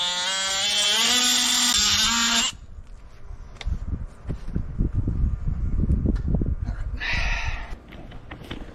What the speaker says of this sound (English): Alright, I'm going to cut the cotter pin on this.